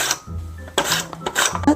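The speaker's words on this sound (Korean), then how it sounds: "당근 6, 7cm 길이로 해서 채 썰어주세요." A knife cutting carrots into thin julienne strips on a cutting board, with several short bursts of chopping and scraping over 2 seconds, close and moderately loud, with no speech.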